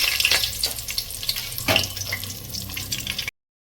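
Whole spices dropped into hot ghee and oil for a pressure cooker biryani, giving a bright, crackling sizzle with sharper spits as they hit the fat, close and steady throughout with no voices.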